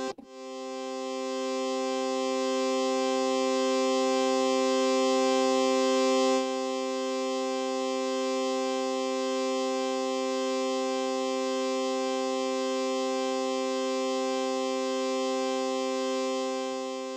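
Hydrasynth synthesizer playing a pad sound, a steady sustained tone that swells in softly, holds evenly and pulses gently for about seventeen seconds. It plays alone with no talk.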